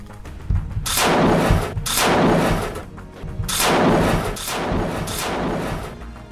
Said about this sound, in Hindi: एक के बाद एक ऑटोमेटिक मशीन गन से कई हमले कर देता है